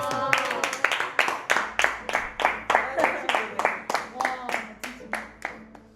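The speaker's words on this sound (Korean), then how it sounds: "박수 한 번만 부탁드리겠습니다." A close-up magic show audience claps in a brisk, steady rhythm of about a dozen and a half sharp claps, with voices talking faintly underneath.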